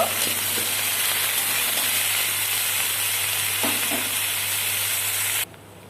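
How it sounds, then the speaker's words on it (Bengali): Mixed vegetables hit hot oil in a wok for a mixed-vegetable khichuri, giving a loud, continuous dense sizzle with a few soft stirring knocks before the frying noise drops away abruptly near the end. "সমস্ত সবজি আমি গরম তেলে দিলাম অ্যান্ড আমি ভালো করে ভেজে নেব।"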